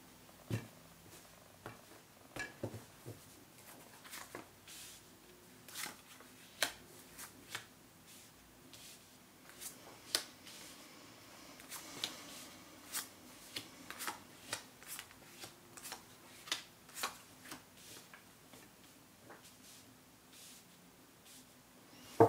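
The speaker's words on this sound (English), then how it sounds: "go ahead and cut the cards" Tarot cards are shuffled and cut in quick, soft riffles and snaps, a string of faint close crisp bursts over a quiet room.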